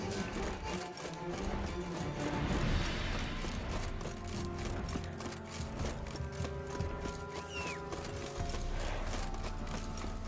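Roach, the horse in The Witcher 3, moving: a steady patter of hoofbeats mixed into a dense, constant game soundscape, moderately close and never stopping.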